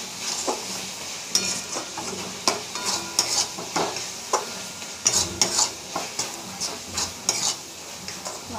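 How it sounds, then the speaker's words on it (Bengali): Food stirred and fried in a pan with a packet of spice powder mixed in, a close, repeated scrape and clack of the spoon over a soft, steady sizzle, with no talking. "ভালো করে মিশিয়ে নেব।"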